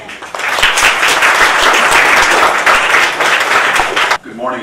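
Seminar attendees greet an invited space-applications speaker with a round of loud, dense applause that swells quickly, holds steady for several seconds, then cuts off, followed by a voice beginning to speak.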